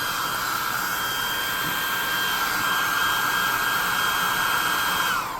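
A hot air gun blows continuously at close range to dry a freshly painted base coat on a tabletop miniature, a loud, even whooshing roar with a whining tone that cuts off at the end.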